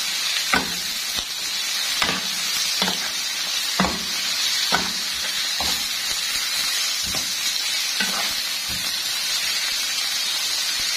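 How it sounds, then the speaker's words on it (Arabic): Chicken pieces sizzle with onions in a pan for chicken shawarma. A loud, steady frying hiss continues throughout, broken by regular scraping knocks as the pieces are turned and stirred, with no talking. "هنقلب الدجاج مع البصل"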